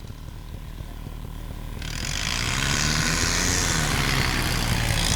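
A tractor engine at a rural tractor disc-pulling competition, a low rumbling drone that swells into a loud, heavy roar after about two seconds and holds steady to the end, with crowd noise beneath.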